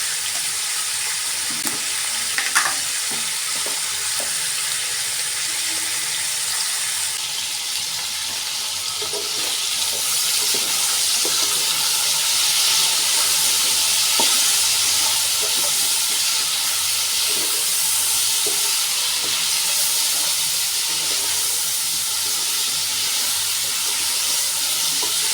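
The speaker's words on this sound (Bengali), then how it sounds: "সবজি তো ভাজা হয়ে গেছে।" Winter vegetables fried with turmeric and salt hiss and sizzle steadily in a pan, a loud continuous frying noise with a few faint stirring clicks, close by and with no voices.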